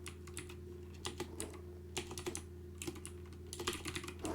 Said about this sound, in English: I'm good at typing, I swear.